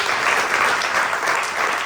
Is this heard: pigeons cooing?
no